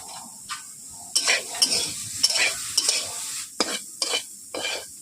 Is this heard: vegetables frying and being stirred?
yes